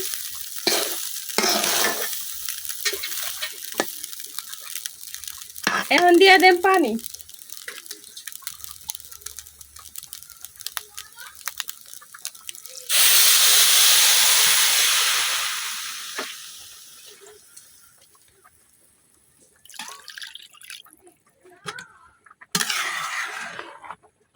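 Broken rice (khud) fries and is stirred in a pan, giving bursts of sizzling and scraping with a long loud hiss in the middle, then quiet stretches and a final sizzle.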